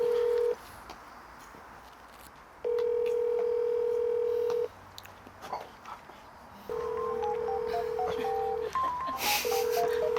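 Unanswered outgoing phone call, with steady ringback tones sounding in long repeated bursts separated by silent gaps, plus a short run of keypad or dial beeps near the end, clear and alone with no talking.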